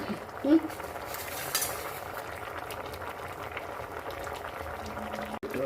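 Vegetables for avial simmer in a pot with a soft, steady bubbling, faint and close, and a brief stirring clink near the start.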